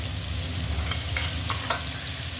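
Ginger, garlic and green chili sautéing in a hot pan for chicken curry, a close, continuous loud sizzle with a few brief stirring scrapes, no voices.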